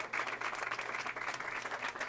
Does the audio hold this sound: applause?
yes